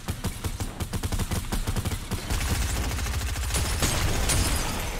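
Rapid gunfire in the battle royale game Fortnite, a dense stream of quick repeated shots rattling steadily and loudly with no pause, clear and alone.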